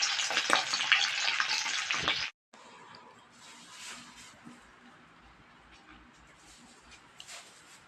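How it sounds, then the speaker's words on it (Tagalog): Dried salinas fish frying in a pan, a loud, dense sizzle for the first two seconds, then a brief cutoff and a quieter, steady crackle with faint scrapes, heard alone without talk. "Pagprito naman tayo ng tuyong isda."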